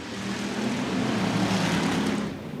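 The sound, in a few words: stock cars racing at Stuart Raceway after green flag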